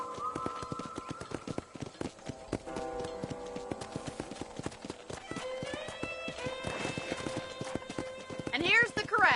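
Horse hooves clip-clop at a steady gait in the Red Dead video game, with a whinny near the end, heard over a continuous bed of game music and ambient tones.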